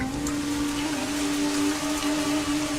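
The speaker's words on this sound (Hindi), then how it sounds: "बारिश आ गई जैसा कि हमने सोचा था।" Steady rain falling in an anime scene, a continuous even hiss of drops with a faint low hum beneath, close and unbroken with no voices.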